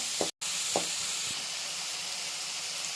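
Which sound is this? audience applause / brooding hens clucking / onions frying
onions frying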